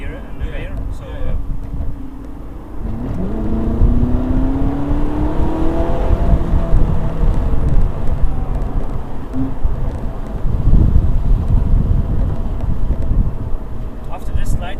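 A Ferrari 458 Italia with a rear-mounted engine accelerates on a road test drive, its rising engine note building from a low rumble into a sustained, loud whir with a steep climb in pitch, heard from inside the car.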